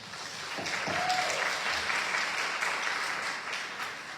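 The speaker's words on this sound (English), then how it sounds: "So let's give them a round of applause." An audience at a candidate forum applauds candidates on stage, a steady wash of many hands clapping that fills the room at moderate loudness with no voices over it.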